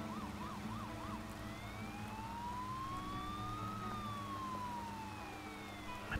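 In the video game Poly Bridge 2, an ambulance siren wails with a rising and falling tone, starting with quick warbling pulses, then one long sweep up and back down, steady and moderately loud over a low engine drone.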